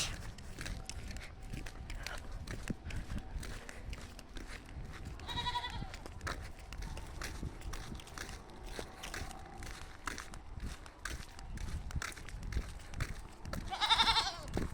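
A goat bleats twice in short, wavering cries, one midway and one near the end, over faint rustling and shuffling steps outdoors.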